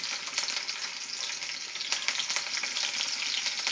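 Garlic and sliced green chillies fry in oil in a kadai, a close, continuous sizzle with crackles and bursts of spattering, heard alone without any voices.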